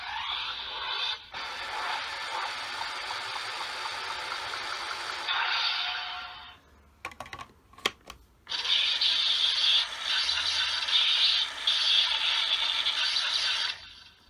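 A Kamen Rider Kuuga CSM Arcle toy belt plays its electronic Rising form transformation sound, a bright synthetic tone that stops, gives a few sharp clicks and then resumes, loud and alone.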